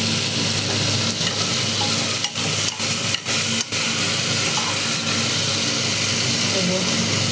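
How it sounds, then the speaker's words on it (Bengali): Food fries in a pan with a constant loud sizzle and hiss, broken by a few brief stirring scrapes near the middle. "ভালো করে 2 মিনিট ভেজে নেব।"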